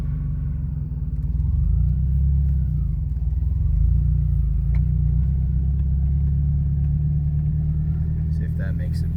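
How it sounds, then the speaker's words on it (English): A 2000 Toyota Solara with a 5-speed manual gearbox turning around, its engine a steady low rumble close by that swells slightly partway through and holds, with faint clicks near the end. "Let me turn the car around real quick."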